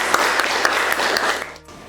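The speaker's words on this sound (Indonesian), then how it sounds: "Tepuk tangan." A small group claps during a classroom lesson, brisk close-up claps that carry on for about a second and a half and then stop abruptly, leaving near quiet.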